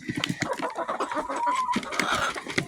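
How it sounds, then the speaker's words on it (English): Hens in a farm pen of nearly 40 birds, clucking excitedly at feeding time; quick overlapping clucks and short calls come close and lively throughout, with a brief rising squawk near the middle. "So excited, happy chickens."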